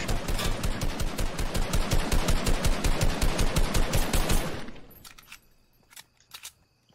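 Fortnite gunfire rattles in a fast, evenly spaced automatic stream for several seconds, then stops, leaving a few scattered quieter shots and clicks.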